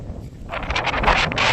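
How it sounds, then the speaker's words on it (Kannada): Strong wind sweeps across an open cotton field and buffets the microphone, a rough rushing roar that swells after the first half second and stays loud. "ಆ್ಯಕ್ಚುಲಿ ಅಂದರೆ ಗಾಳಿ ಸೌಂಡ್ಗೆ ಏನೂ ಕೇಳಿಸ್ತಿಲ್ಲ."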